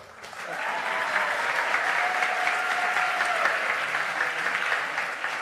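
Audience at a children's debate in Colombia breaks into loud, sustained applause that swells quickly and holds steady for several seconds, with a faint whistle-like tone over the clapping.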